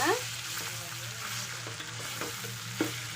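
Cooked rice is stirred with oil and fried onions in a pan, a soft continuous sizzle with scraping strokes of the spoon and a sharper clink near the end, no voices.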